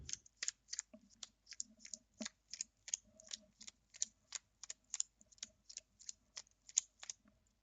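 Lorcana trading cards are shuffled by hand in a quiet room, a run of about two dozen quick, crisp riffling snaps at an even rhythm, close and faint.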